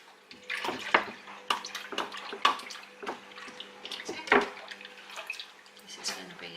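Water poured out in splashy bursts from a container into a sink while making homemade mozzarella, with irregular gurgles and drips close by and people talking over it.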